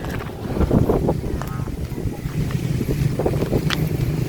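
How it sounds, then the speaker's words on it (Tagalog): Strong gusty wind buffeting the microphone outdoors during a kite test flight, a loud rough roar that surges and eases in uneven gusts with no clear talk. "ang lakas ng hangin oh"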